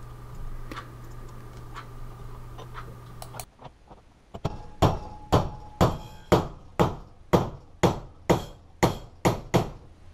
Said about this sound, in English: I then bend one end of each to make the hook.